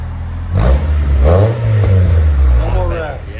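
1997 Honda Accord fitted with a Vibrant resonator and quad-tip exhaust blips its engine in a few loud, close revs that swell and fall back to idle.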